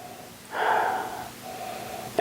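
One sharp, close sniff of Laphroaig 16-year-old Islay single malt whisky, lasting under a second in a quiet room, then faint breathing.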